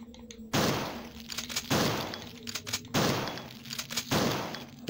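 Four loud gunshots ring out one after another at roughly even intervals in the Resident Evil 2 game on PS1, each a sharp blast with a decaying tail, with little other sound between them.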